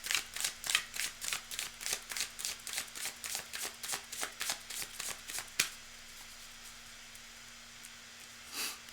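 Rapid rhythmic riffling of playing cards, about a dozen quick close bursts in a row, then quiet with one final short riffle.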